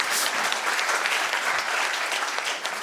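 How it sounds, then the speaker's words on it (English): Steady applause from an audience at a budget dialogue breakfast in Namibia, a dense, even wash of many hands clapping, fairly close and sustained throughout without a break. "Please, a round of applause for my panelists, our panelists."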